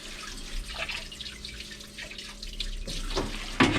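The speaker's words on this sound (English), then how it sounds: "Make sure you're washing your hoses out, just like I'm doing right now." Hydraulic hoses from a Reliable-60 tamper being washed out with solvent such as diesel or kerosene, heard as close trickling, dripping and sloshing liquid with a few sharper splashes near the end.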